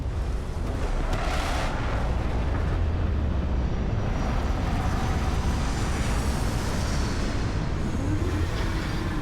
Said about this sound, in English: Beginning landing cycle.